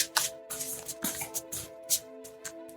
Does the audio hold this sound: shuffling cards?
yes